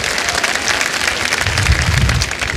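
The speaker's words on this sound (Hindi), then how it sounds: "एक बार फिर तालियां बज जाएं इन तीनों" A studio audience applauds on a Kaun Banega Crorepati style quiz show, a dense, loud wash of clapping that holds steady throughout the short stretch.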